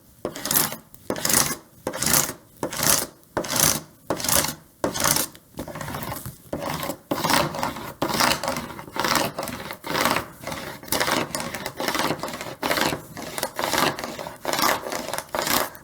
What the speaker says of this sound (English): So I'll do that just by kind of scraping back and forth.